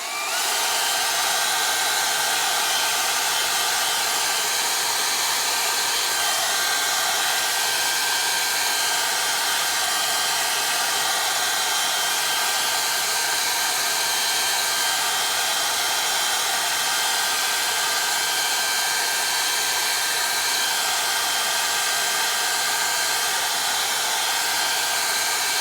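A hair dryer blows steadily over a freshly made print, a loud, close, unbroken hiss and whine that holds for the whole stretch without any voices.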